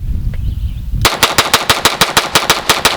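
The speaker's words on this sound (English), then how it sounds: "See how fast I can shoot this performance trigger." A Glock pistol fitted with a performance trigger fires a rapid string of about a dozen very loud, sharp shots at an even quick rhythm after a brief quiet moment, close up, with no talking.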